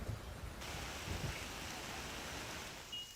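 Heavy monsoon downpour in Mumbai, a steady dense hiss of rain falling on surfaces with a faint low rumble beneath, continuous and fairly quiet throughout with no voices.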